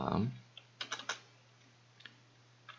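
Keys tap on a computer keyboard while text goes into a PowerPoint slide, a few quiet, separate clicks and short bursts with pauses between, close and faint after a brief opening murmur.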